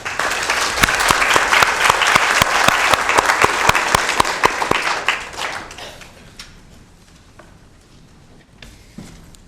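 An audience at a community meeting breaks into loud, dense applause for several seconds, then it thins out and fades into scattered claps and room noise.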